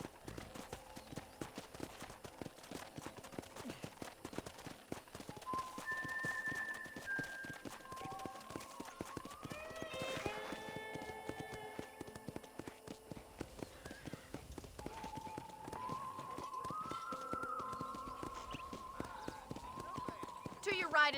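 Horse hooves in Red Dead Redemption clip-clop in a steady, quick rhythm throughout at moderate distance, while people converse over the plodding steps.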